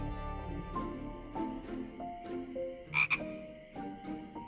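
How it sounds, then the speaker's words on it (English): Frog croaking, a series of short rough croaks repeating at a steady pace, close and clear, with no voices. "The frog was gooey in Tabitha's hands"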